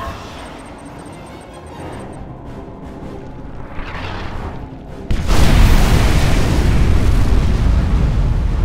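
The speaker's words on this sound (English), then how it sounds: "Nuclear missile launched." A nuclear missile strike in Command & Conquer 3: Kane's Wrath, a low rumble building over several seconds before a loud, sustained roaring blast that swells suddenly and holds, with no talk over it.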